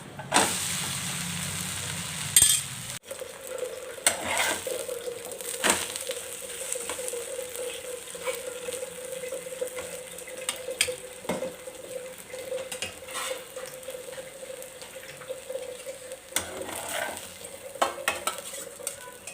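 An uttapam made from idli batter is flipped on an oiled pan, giving a scrape and clatter of the spatula and then a steady sizzle punctuated by occasional utensil knocks, with no talking.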